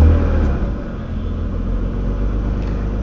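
A Mercedes W124 that sat for about three weeks starts on a cold engine and settles into a loud, steady, low rumbling idle, heard close with no talking.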